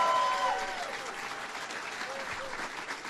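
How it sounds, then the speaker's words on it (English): Audience applause at an event at the Rubin Museum of Art in New York, a steady wash of clapping that starts strongest and holds evenly, with some voices in the crowd. "Please give them a big round of applause."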